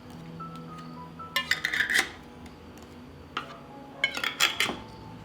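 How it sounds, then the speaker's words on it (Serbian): Glass jars of homemade compote being closed with clean new metal lids, with two bursts of clinking, scraping and rattling at close range separated by quieter pauses, and no voices. "I na kraju tegle zatvaram sa čistim i novim poklopcima."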